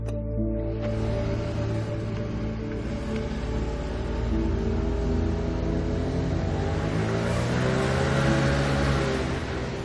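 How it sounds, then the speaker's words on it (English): An internal combustion engine running mostly on water with a little gasoline mixed in, a steady loud droning hum with a slight rise in pitch partway through, heard alone without voices. "it runs internal combustion engines on water with a little bit of gasoline in it"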